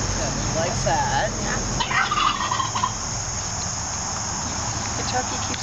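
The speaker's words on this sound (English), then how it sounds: "The turkey keeps yelling at the chickens." A turkey gobbles in a quick rattling burst, then again more faintly, over a steady background of chirping crickets outdoors.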